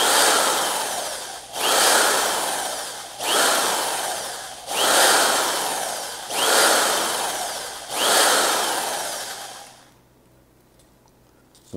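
A handheld power tool polishes the cylinder of an air rifle in five long whirring bursts of about one and a half seconds each, close and steady, then stops, leaving near silence.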